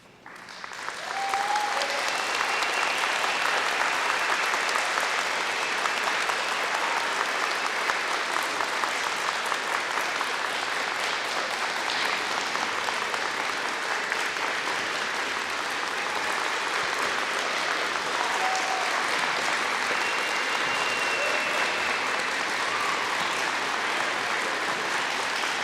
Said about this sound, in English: I'd like you to give her a round of applause, please.